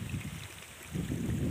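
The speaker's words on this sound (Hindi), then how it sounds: "छोटे छोटे झरने या स्ट्रीम, नालियाँ बहती, उसमें से ये पानी आ रहा है।" A small mountain stream trickles and gurgles steadily beside rice fields, a close, continuous watery hiss that swells slightly toward the end, with no voices.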